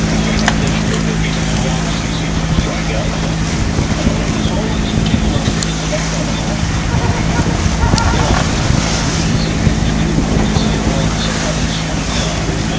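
A sailboat makes about 7 knots off the Georgia coast in a 12-knot breeze, with a steady roar of wind across the microphone and rushing water along the hull, plus a faint low hum underneath.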